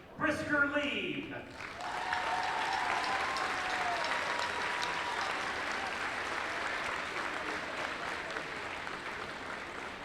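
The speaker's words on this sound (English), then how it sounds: "please feel free to applaud for each one of them" A brief spoken introduction gives way to steady, sustained applause from an audience at a Townsend alumni night honoring past graduates, the clapping holding at an even level and fading slightly toward the end.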